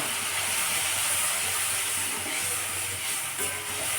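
Water poured into sizzling spiced masala in a pan for a fish curry gives a loud, steady hissing steam sizzle that continues throughout with little variation.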